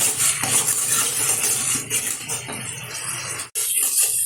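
A spice mix with potato, tomato, peas and chopped coriander is stirred and sautéed for a rohu fish curry, giving soft sizzling under scraping utensil strokes against the pan, with a brief break near the end.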